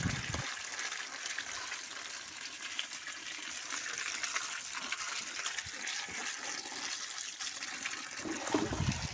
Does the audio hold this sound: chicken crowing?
no